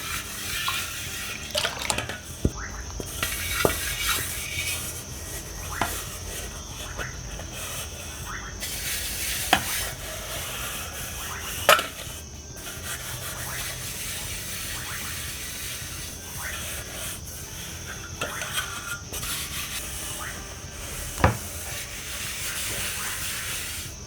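Sufuria pot scrubbed by hand with soapy steel wool, scattered scraping and clinking over running water and hiss, faint and intermittent.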